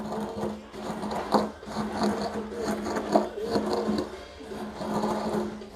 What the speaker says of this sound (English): So sometimes I have to grind. And it's okay to spin your bowl.